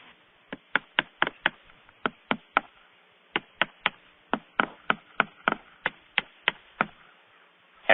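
Special hive staples hammered into wooden beehive supers to fasten them together, about two dozen sharp, close knocks in irregular quick groups against a quiet background.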